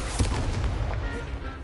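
A Confringo blasting spell goes off in Hogwarts Legacy on PS5 as a loud, close booming blast with a rumbling low tail, in the middle of a hectic spell-casting fight.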